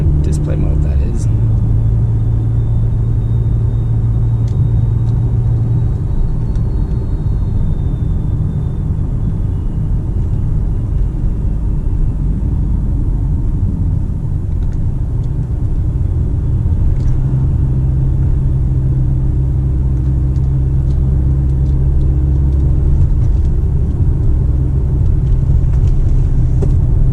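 A Mercedes-Benz GLB cruises at night over a bridge, giving a steady low road and engine rumble inside the cabin, broken by faint ticks, with a voice talking over the drive.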